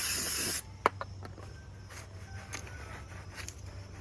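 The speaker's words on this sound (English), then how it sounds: "So we're going to hit it with the brake cleaner," A short, loud hiss of brake cleaner sprayed onto a new front brake rotor of a 2017 Nissan Murano opens the clip, then a sharp tap and quiet workshop rustling follow.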